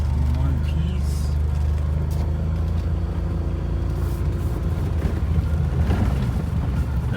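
A rare Daihatsu Atrai two-seat kei car with a 550cc turbo engine drives along with its windows down, a steady low engine drone and road rumble filling the cabin alongside wind buffeting, continuous and close throughout.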